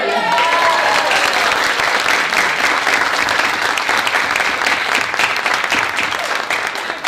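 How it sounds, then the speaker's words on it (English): Sustained audience applause fills a holiday pops concert hall, a dense steady wash of many hands clapping at close range that carries on without a break and fades slightly near the end. "One more very important round of applause for Ms. Moore."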